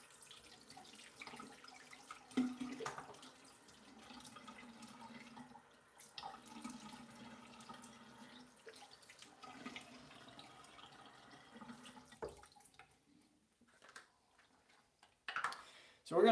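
Cold water runs steadily from a bathroom tap for a long stretch while someone rinses after a shave, with soft splashing and a few clinks and knocks, and talk over parts of it.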